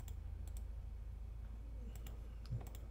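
Several crisp, close mouse clicks on chart bars in a reporting tool, a pair near the start and a quick cluster near the end, over a low steady hum, no talk.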